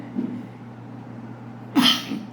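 A single sharp sneeze bursts out close to the microphone after a quiet stretch, loud and brief with a breathy hiss at its end.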